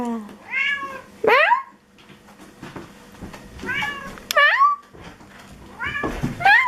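A cat meows repeatedly up close, several drawn-out rising and falling cries spaced a second or so apart, with faint background noise between them.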